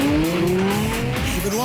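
A Lexus LFA and an Audi R8 Quattro FSI launch side by side in a drag race: loud, close engines with rising revs, tire squeal and a shift-like pitch drop near the end.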